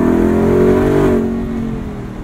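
A Velocity Modern Classics Bronco revs hard while driving, its engine note rising loud and close before easing off into a lower rumble, with no one talking.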